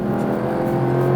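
A Singer Turbo Classic Study Porsche restomod, under 3,000 pounds, accelerates hard into turbo boost, its engine a steady, loud, close drone with a rising whir throughout.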